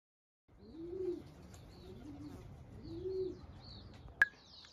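Pigeons at a racing loft give soft, low, repeated coos in a slow rhythm, close and fairly quiet, with faint higher chirps around them and one sharp click near the end.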